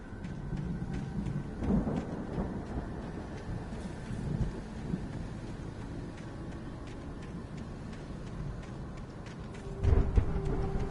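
A raging storm in the video game Alan Wake Remastered: steady rain hiss with low distant rumbles of thunder, a louder roll arriving near the end, with no voices.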